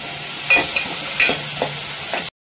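Ingredients being sautéed and stirred in a pan in a Tamil home kitchen: a steady close sizzle with several soft scraping stir strokes at irregular intervals, no talking.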